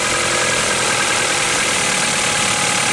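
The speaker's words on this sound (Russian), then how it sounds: "Работа двигателя на холостом ходу." A Ford 1.6-litre Duratec engine from a 2002-2012 Fusion idles steadily close up, a constant even hum with a faint mechanical ticking and no other sounds.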